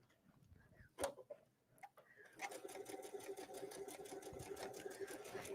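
A sewing machine stitches a zipper into fabric, starting with a few isolated clicks and then settling into a steady, fast mechanical ticking rhythm, fairly quiet and close, with no talking.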